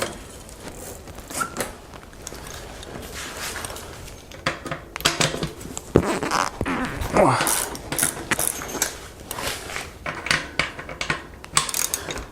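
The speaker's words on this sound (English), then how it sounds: "Let me get a socket wrench for this." A socket wrench ratchets while working on a Bianchi Strada bicycle during a tune-up, giving close, bursty runs of clicking pawl sounds mixed with scrapes and clunks from handling parts.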